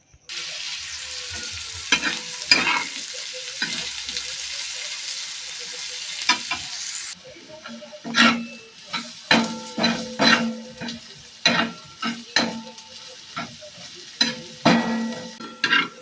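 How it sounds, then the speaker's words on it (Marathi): Chopped onions sizzle steadily in hot oil on a griddle, punctuated by repeated scraping and tapping of a spatula stirring them. "इथे 2 कांदे चिरलेत बारीक, ते आता मी याच्यामध्ये टाकणार आहे आणि भाजून घ्यायचं आहे"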